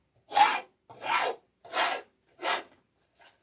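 A hand file rasps along the edges of a wooden round craft blank in four steady strokes with short pauses between, then a faint fifth touch, loud and close with no talking.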